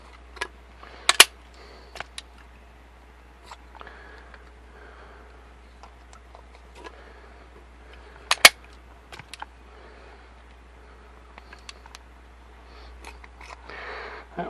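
Plastic .410 shotgun shells being sized in a Lee Loader die, sparse sharp clicks and snaps with two louder cracks against a quiet background, separated by soft handling noises.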